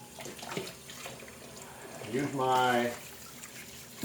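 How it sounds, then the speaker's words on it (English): Hot tap water runs into a kitchen sink while dishes are washed by hand, a steady close hiss and splash with a person talking over it. "So I'm just going to leave the water running, get a couple of these done real quick."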